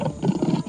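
A lion's roar used as a sound effect in a children's fable, a short, loud, growling burst lasting under a second, heard alone.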